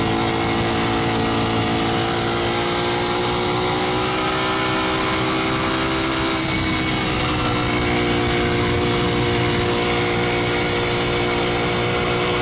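Ducati Streetfighter motorcycle accelerating hard, its engine a loud, steady roar with rising harmonic bands across the whole stretch, heavy wind rumble beneath, no talk.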